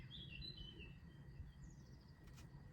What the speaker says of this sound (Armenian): ծիտիկներին լսում եք